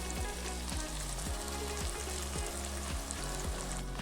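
Tomato masala sizzles gently in a pan as tamarind pulp is added, a quiet, steady frying hiss with a faint regular low thumping underneath and no voices.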